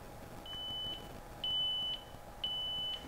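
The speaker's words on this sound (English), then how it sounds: "You can also use the Find My Earbuds option. It's going to play a very high pitched noise" Three identical high-pitched electronic beeps from Edifier Neobuds Pro 2 earbuds, each lasting about half a second, evenly spaced and fairly quiet against a low background hum.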